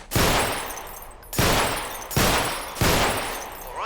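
Pistol gunshots fired at bottles in the Half-Life 2 Underhell mod: four loud, close shots spaced about a second apart, each a sharp crack followed by a long ringing decay, with no talk.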